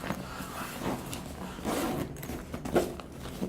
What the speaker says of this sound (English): It has another zipper here.